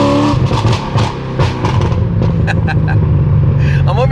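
A cammed Corvette Z06 engine revs loudly and continuously up close, with a rough, lopey idle rumble between throttle blips and people talking over it.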